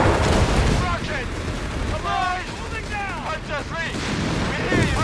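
Rocket blasts and gunfire from a Company of Heroes 3 Afrika Korps battle rumble under continuous shouted voices, with broadband booms and crackling shots running throughout.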